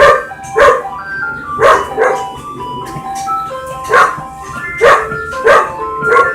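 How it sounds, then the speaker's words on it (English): An ice cream truck plays its tinkling melody faintly in the distance while a dog barks nearby in loud, regular bursts about once a second over the tune. "Boy, ice cream trucks are so annoying."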